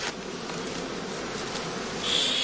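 Bees swarm around a traditional straw skep hive on heathland, a dense, steady buzzing that stays loud and even throughout, with a slight swell near the end.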